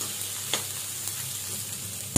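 Cluster bean vegetable gets stirred with coriander-cumin powder and other spices in a pan, soft steady sizzling with a few light spatula scrapes and a sharper clink at the end.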